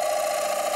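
A wood lathe cuts a green-wood bowl whose walls are growing thin, giving a brief, steady, whining hum with a rough, hissy edge, close and fairly loud.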